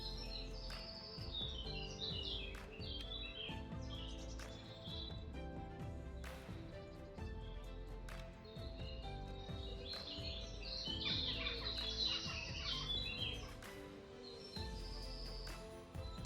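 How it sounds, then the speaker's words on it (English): Several birds singing in a garden with Pittosporum shrubs, their chirps and trills scattered continuously through a busy, fairly dense background of low rumble and other ambient noise. "Listen to the birds."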